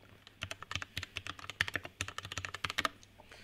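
Rapid, uneven clacking of keys on a lubed and foam-modded Vortex VX5 mechanical keyboard, struck close up in a steady typing burst with no voices.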